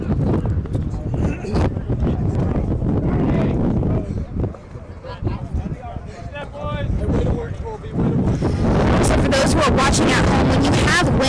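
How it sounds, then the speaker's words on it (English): Strong wind gusts across an open sports field during a women's rugby sevens final, a loud continuous roar and buffeting on the microphone throughout, with players and spectators calling out underneath. "when you have wind that is this strong"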